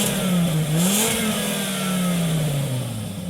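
A 1998 Volvo S80 2.4-liter five-cylinder engine revs up and settles, a smooth mid-pitched drone rising and falling briefly, close and loud, with no talking.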